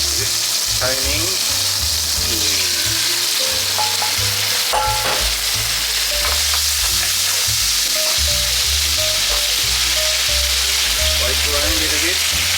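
A small piece of garlic fries in a pan for linguine with rock oysters, giving a steady, close, loud sizzle and bubbling throughout, with occasional soft clinks.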